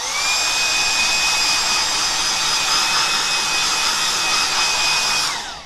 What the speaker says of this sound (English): I'm going to get my hairdryer. I'm going to make a loud noise.